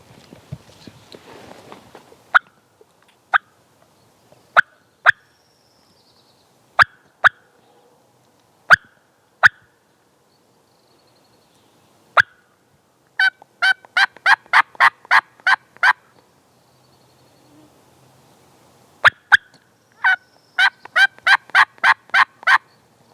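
Wild turkey gobbler in the Idaho woods, gobbling in bursts of rapid rattling calls at a moderate distance, with single sharp clucks and yelps scattered between the gobbles and no talking.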